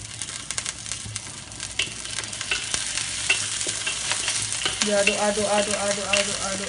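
Onions and curry leaves frying in hot oil for a home-cooked biryani, a steady loud sizzle with the scrape and clatter of a spoon stirring the pan throughout, no talk.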